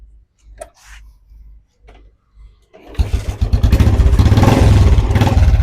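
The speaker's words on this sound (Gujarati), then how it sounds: "એક જ કીકે ગાડી સ્ટાર્ટ થઈ ગઈ છે તો એન્જિનનો અવાજ તમને સંભળાવી દઉં" A few soft clunks and scrapes of a kick start, then a motorcycle engine catches on the first kick and runs with a loud, steady, throbbing idle close by.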